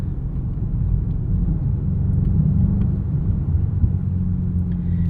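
A 2025 BMW M5 G90 with an 8-speed automatic drives along a road, giving a steady low engine and road rumble from inside the cabin without any talk.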